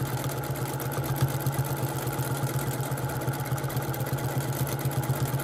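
A domestic sewing machine stitching steadily during free-motion quilting as fabric is moved by hand, a continuous close motor hum with fast even needle chatter throughout.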